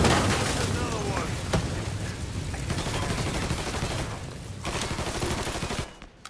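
Gunfire from the video game Mafia III crackles in loud, rapid near bursts that run continuously, mixed with shouted voices, before dropping away abruptly at the end.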